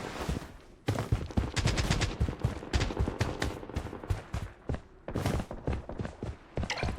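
Gunfire in a shooter video game, with repeated sharp shots and bursts in quick irregular succession, loud and dense throughout with short gaps between volleys.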